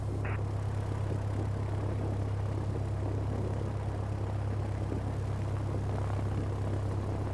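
Piper PA-28-161 Warrior II taxiing in Microsoft Flight Simulator, a steady low propeller-engine drone holding constant throughout with no talk over it.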